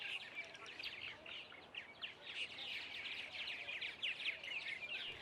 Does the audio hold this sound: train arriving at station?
no